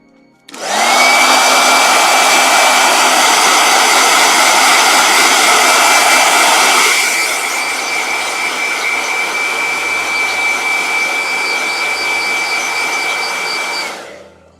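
A blow dryer runs loud and close, a steady high-pitched whooshing hum that drops to a lower setting about halfway through before cutting off.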